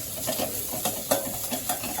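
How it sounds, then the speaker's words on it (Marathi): Green masala paste with half a spoon of turmeric sautés in a pan for potato bhaji, with close, repeated scraping stirs over a soft sizzle and no voices. "इथे मी अर्धा चमचा हळद घालते आणि हे छानपैकी आपलं हिरवं वाटण जे आहे ते मस्त परतून"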